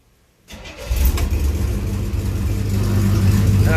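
A 1967 Chevrolet C10 pickup, freshly fitted with a new camshaft, cranks briefly after a short silence and catches, then settles into a loud, steady, rumbling idle close by.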